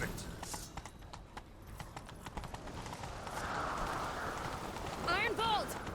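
Horse hooves clip-clop and gallop in The Witcher 3 video game during a chase, a steady rhythmic pounding under game music and speech, with a brief whinny near the end.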